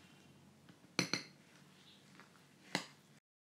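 Spoon working through puffed rice dosa batter in a bowl, a few sharp metallic clinks against the bowl's side with soft wet mixing in between, close and quiet.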